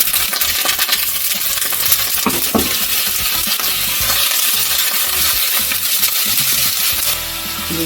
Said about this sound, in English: I'm going to saute some shrimp for the main course